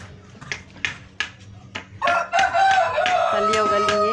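Hens cluck in quick bursts close by, then a rooster breaks into a loud, drawn-out crow that carries to the end.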